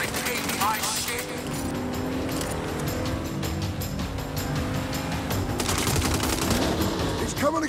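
Sustained gunfire in a Saints Row shootout, rapid automatic bursts rattling over a steady engine drone, with shouting voices mixed in throughout.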